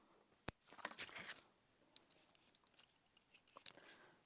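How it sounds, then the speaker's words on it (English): Quiet, close snips of scissors trimming excess threads, a sharp click followed by a short burst of rapid cutting and a few softer snips afterward. "and trim any excess threads"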